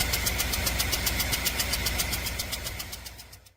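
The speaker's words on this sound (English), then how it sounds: "Customer states their truck sounds like a steam engine." A truck engine running roughly with a fast, even knocking chug that gives it a steam-engine-like rhythm, loud and close, holding steady before fading out at the end.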